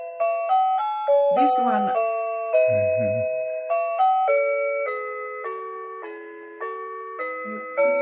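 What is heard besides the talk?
Jingle Bells melody playing as a chime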